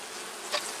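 Honey bees buzzing inside a third deep brood box of a hive, a steady close hum with one brief louder swell as a bee passes near.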